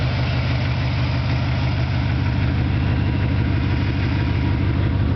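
A 1986 Chevy C20 square-body truck idles steadily, its engine giving a deep, even rumble with a low throb, close and loud throughout, with no talk over it.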